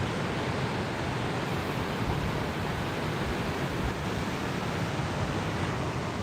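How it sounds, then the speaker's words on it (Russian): Stormy sea at Anapa's Sofia beach, heavy surf roaring in a dense, continuous wash of breaking waves with wind rushing over it, loud and unbroken. "Так, волны усиливаются"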